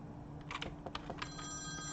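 A telephone rings in the video game Nighttime Visitor, a few brief, fairly quiet electronic trills set against a low background hum.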